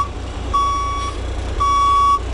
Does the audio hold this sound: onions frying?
no